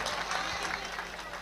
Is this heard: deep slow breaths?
no